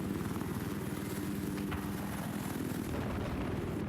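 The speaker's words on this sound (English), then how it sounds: "Mordred now piloting the chopper." A helicopter in flight in the video game Battlefield 4, heard as a steady, pulsing rotor chop under a broad engine whir. It runs continuously at low volume with no voices.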